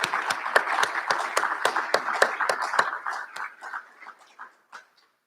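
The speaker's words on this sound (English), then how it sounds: "Give yourselves a round of applause." A graduating class applauds at a recognition ceremony: a cluster of sharp, close claps with a regular rhythm, thinning out toward the end into a few scattered final claps before falling silent.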